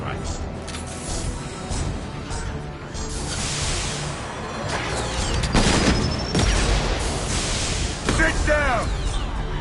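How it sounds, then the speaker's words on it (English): Rifle fire in the Mass Effect 2 video game, dense bursts of shots and booms over a noisy battle backdrop, loud and nearly continuous, with a few sharp high-pitched sci-fi zips near the end. "I love this rifle."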